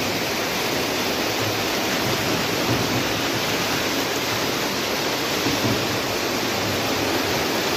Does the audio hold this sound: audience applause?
no